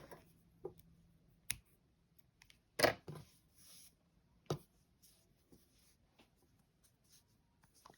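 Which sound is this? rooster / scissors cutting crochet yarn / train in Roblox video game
scissors cutting crochet yarn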